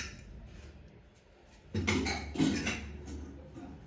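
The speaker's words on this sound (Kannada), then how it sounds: "ಇವಾಗ ನಾನು ಆಫ್ಟರ್ ತ್ರೀ ವಿಷನ್ ನಾನು ಓಪನ್ ಮಾಡ್ತಾ ಇದ್ದೀನಿ ಕುಕ್ಕರ್ ಮುಚ್ಚಳಕ್ಕೆ" A pressure cooker lid is opened after the pot has cooked greens, giving a short burst of close metallic clanks and rattles after a quiet moment, with no talk.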